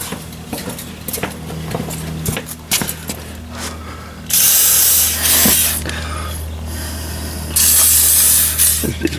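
Two sharp hissing bursts of WD-40 spray onto the front brake bolts of a 2008-or-later Ford Super Duty, following tool clinks and rubbing, with a low hum underneath.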